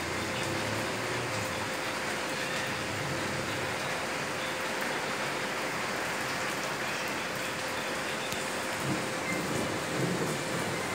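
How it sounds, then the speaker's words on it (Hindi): Heavy, steady rain with strong wind and rumbling thunder, a dense continuous wash of noise with low rumbles at moments, heard alone without talk. "ये भाई हवा बहुत ज़्यादा तेज़ चल रही है, साथ बारिश बहुत ज़्यादा हो रही है।"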